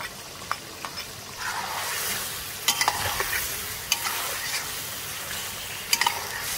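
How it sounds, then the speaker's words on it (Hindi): Garlic-ginger paste sizzles in hot oil in a karahi while Cholistani chicken karahi cooks. A steady frying hiss runs throughout, with occasional spoon scrapes and clinks from stirring. "दो खाने के चम्मच जो है लहसुन अदरक का पेस्ट डालेंगे।"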